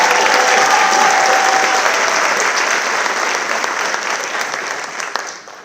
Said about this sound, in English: Let's give one more big round of applause for Sophia